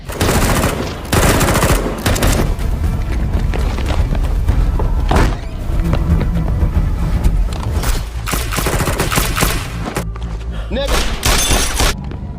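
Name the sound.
gunfire during a shootout in an action film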